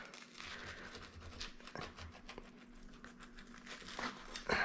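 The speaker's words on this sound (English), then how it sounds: "The crust is nice and crispy. Take a listen to that. Let's just get a cut down the middle." Knife cutting through the crispy crust of a 14-inch pepperoni pizza from an Ooni Koda 16 oven, a quiet close crackling and crunching with sharp snaps near the end, no talk.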